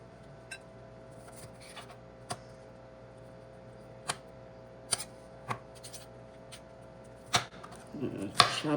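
Cucumbers chopped finely with a knife on a board, a scattering of sharp, quiet, irregular taps, close and alone over low kitchen hum, with a denser flurry of cuts at the end.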